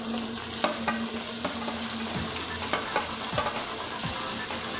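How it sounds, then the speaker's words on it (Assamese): Chopped tomatoes and chillies fry in a hot pan, giving a steady, dense sizzle with intermittent scraping and clicking as the mixture is stirred, close and continuous with no talking. "এতিয়া আমি ভালদৰে লৰাই অলপ সময় ভাজি ল'ম ধুনীয়াকৈ।"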